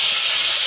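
Water poured into a hot pan gives a sharp burst of loud steamy hissing, close and brief with no voices.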